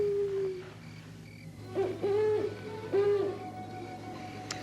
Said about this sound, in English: That's just an old owl.